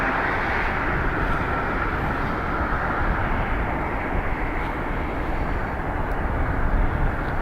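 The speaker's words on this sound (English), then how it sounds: "We have a Bizjet on taxi." A business jet taxiing at Dublin Airport gives off a continuous low engine rumble and roar, steady and fairly loud throughout with no voices.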